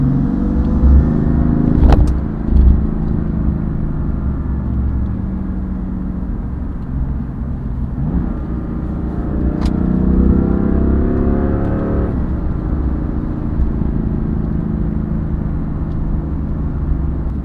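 A BMW M3/M4 engine with an aftermarket turbo intake hums and revs through several manual gear changes, rising in pitch and dropping back with each shift, heard steadily from inside the car.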